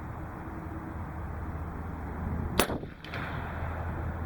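A single sharp shot from a tethered Umarex Hammer air rifle, a crisp loud crack partway through with a short echoing tail, over steady background noise.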